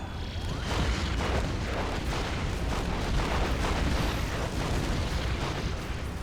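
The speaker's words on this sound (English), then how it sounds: "you just drop the bombs on them" Bombs explode in the strategy game Red Alert 3, a dense, continuous rumble of booms and blasts at steady loudness throughout.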